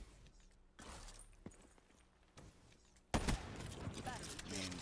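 Bursts of gunfire from a gun in Black Ops 3, with a few scattered shots early on and then a louder, denser volley near the end, all fairly quiet overall with a voice talking.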